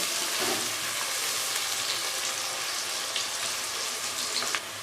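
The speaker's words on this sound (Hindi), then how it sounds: "प्याज पिंक हो गए हैं, हाफ फ्राई हो गए हैं।" Sliced onions for chana dal fry in a pan with a dense, continuous hiss and crackle, close and steady, with a few sharper pops near the end.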